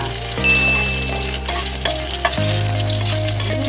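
Ginger hits hot oil in a pan of frying chicken curry and gives a loud, close, continuous sizzle, with light stirring scrapes and no talking.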